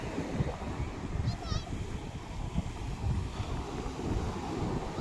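Big sea waves roll in at the shore with a low, churning roar and continuous wash, heavily mixed with buffeting wind noise on the microphone.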